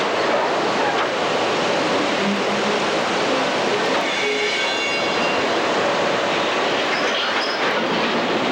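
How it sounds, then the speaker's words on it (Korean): A long Brazilian freight train of 160 cars hauling minerals along an 890 km railway gives off a loud, continuous rumble and rattling roar without pause. "재작년에 완공된 890km의 철로 위를 160대의 화물 차량이 광물을 실어 나르고 있었다."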